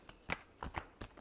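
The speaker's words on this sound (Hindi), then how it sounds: "Last shuffle." Tarot cards being shuffled in quick bursts, with four or five crisp riffling rustles spaced through a short stretch and no voices.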